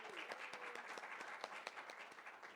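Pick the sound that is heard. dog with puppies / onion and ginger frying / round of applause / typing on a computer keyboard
round of applause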